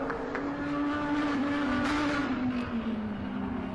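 A Ferrari 458 and an Audi race on a circuit, their engines holding a loud, sustained roar with a steady droning pitch that slowly drops as they pass close by.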